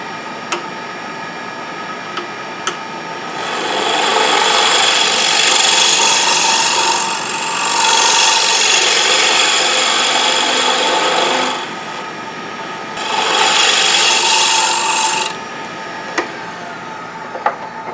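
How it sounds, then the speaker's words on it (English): A negative rake scraper cleans the bottom of a wooden sushi dish bowl on a spinning wood lathe, making loud raspy scraping passes in three long bursts separated by brief lulls, with a few sharp ticks between. "use a negative grade scraper to come across that bottom to clean it up"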